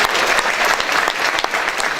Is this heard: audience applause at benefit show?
yes